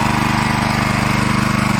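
Harbor Freight Predator 212 small single-cylinder engine running during break-in, a steady rapid putter with even firing pulses, close and loud, no voices.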